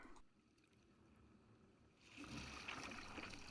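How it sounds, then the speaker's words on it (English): An outboard-powered dinghy speeds past on an inlet, its engine and hull wash rising from a faint hiss into a louder rushing roar of water and motor noise that holds near the end. "An outboard dinghy sped by."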